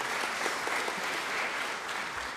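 Steady, dense applause from an audience at a legislators' town hall in Guilford County, a continuous wash of many hands clapping at even loudness, with no voices rising above it.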